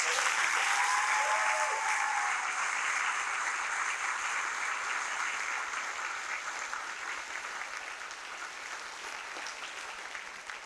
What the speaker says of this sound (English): Can we have a nice round of applause?